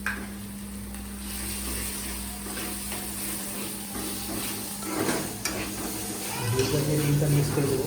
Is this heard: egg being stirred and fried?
yes